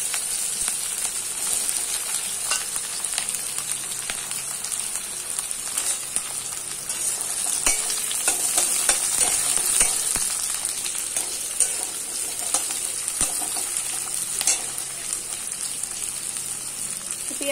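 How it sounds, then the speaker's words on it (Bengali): Onions frying in a pan after potatoes, ahead of adding chicken; a steady, moderate sizzle with scattered crackles and pops throughout, with no talking. "আর এখানে ভাজা হচ্ছে পেঁয়াজ"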